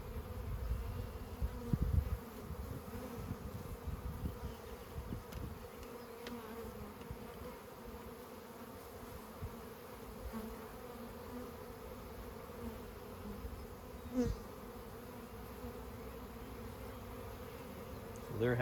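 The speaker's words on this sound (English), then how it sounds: "So they're happy bees." Honeybees buzz around a newly installed hive, a steady, low hum of many wings close by, with a few louder bursts as individual bees pass near, faint talk now and then.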